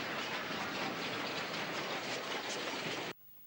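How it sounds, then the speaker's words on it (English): A down express train passing, piloted by a Class 5 locomotive coupled ahead of a rebuilt West Country steam locomotive, a loud close roar with clattering wheels that cuts off abruptly. "a down express hurries past with a Class 5, piloting a rebuilt West Country number"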